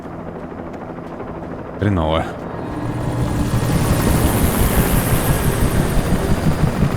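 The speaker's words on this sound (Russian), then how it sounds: "Вертушка." A helicopter in the Alan Wake video game whirs with rotor chop that swells louder and closer over the stretch, after a brief spoken word near the start.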